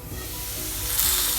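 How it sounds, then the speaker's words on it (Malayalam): Boiled potato pieces frying in ghee give a loud, steady, close sizzle that hisses continuously throughout, growing slightly brighter near the end. "പൊട്ടറ്റോ നെയ്യ് കിടന്നിട്ട് ഒരുവിധം ഫ്രൈ ആയി വന്നിട്ടുണ്ട്"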